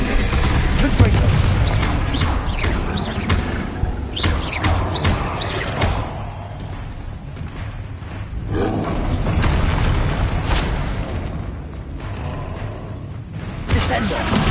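Confringo fire-blast spells explode repeatedly in Hogwarts Legacy, loud booming bursts layered with combat effects and a continuous rumble, while a voice talks over the action.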